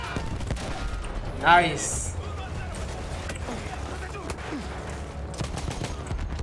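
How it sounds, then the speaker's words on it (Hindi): Gunfire from a weapon in Battlefield 1, with a brief louder burst about a second and a half in, over a busy, steady game din while someone talks now and then. "बट ये गन जितना एक्यूरेटली फायर कर रही है"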